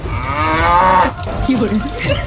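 A cow gives one loud, close, drawn-out moo that slides down in pitch, followed by a softer, lower-pitched grunt.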